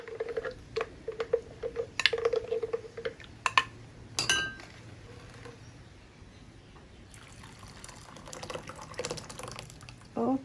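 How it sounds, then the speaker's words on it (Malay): Hot water trickles and splashes into a thermal blender with a few light clinks of the container, followed by a steady soft pouring wash near the end. "saya campurkan air panas. Satu cawan air panas dalam ni"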